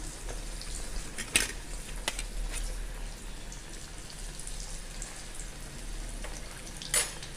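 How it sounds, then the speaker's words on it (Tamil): Slices of elephant foot yam fry in hot oil with a steady low sizzle, broken by a few sharp clinks of a utensil against the pan. "இப்போ அப்பளம் மாதிரி முழுசாக போட்டு அப்படியே பொறிச்சு எடுக்க போகிறோம்"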